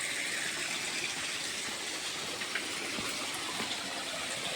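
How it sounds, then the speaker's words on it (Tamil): Steady rushing of water pouring from a pipe onto a Shiva lingam at Sirumalai, Dindigul, without pause, a broad constant splash close by with no voices. "அந்த தண்ணி ஒரு பைப்பில் விழுந்து ஒரு லிங்கத்து மேலே விழுகிற மாதிரி வச்சுருக்காங்க"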